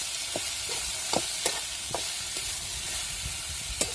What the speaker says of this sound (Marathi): आपल्याला भेंडी टाकायची भेंडी चांगली परतून ती